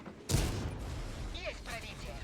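A tank cannon shot in the World of Tanks video game: one sharp, loud broadband blast that rings out and lingers, followed by softer whistling and rumbling battle sounds.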